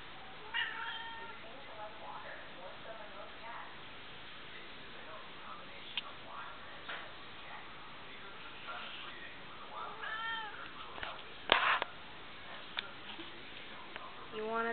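A house cat meows repeatedly, short close calls scattered through the clip with a louder burst near the end, while a person talks softly between them.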